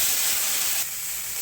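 Ginger, garlic and tomato paste sizzling in hot mustard oil, a loud steady hiss that drops a little in level partway through.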